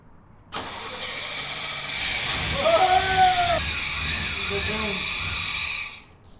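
An old truck engine cranks briefly and catches, settling into a steady, rough idle that continues for several seconds before fading at the end, with a voice speaking over the running engine.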